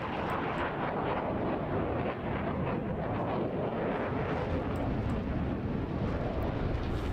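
A two-seat F/A-18F Super Hornet jet flies an airshow display in Roblox, giving a loud, dense, unbroken roar that holds at a steady level throughout.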